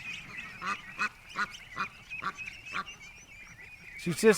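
A duck calls loudly in a rapid run of harsh, repeated honking squawks, close and persistent, ending with one louder burst.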